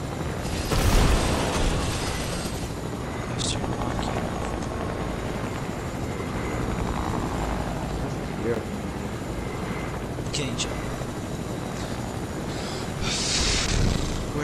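A helicopter flying in the video game Fortnite, heard as a steady, dense rumbling drone that fills the whole clip with a few sharper bursts, while voices talk over the gameplay.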